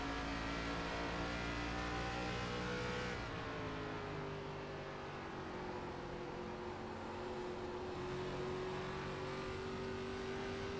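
ARCA stock race cars racing at Iowa Speedway, a loud, steady engine roar with a sustained tone that drops in pitch partway through as the car passes and lifts, then holds on throttle.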